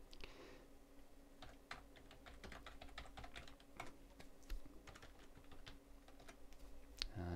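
Steady typing on a computer keyboard while entering a database record, rapid irregular key clicks running continuously and close up at low volume, with no voices.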